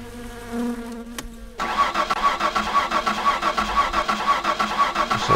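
A Satsuma car in the My Summer Car game cranks over with a droning whir, then catches and settles into a loud, close, rapidly pulsing idle that runs steadily to the end.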